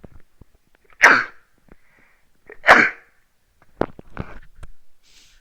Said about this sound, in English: I'm just going to sneeze again.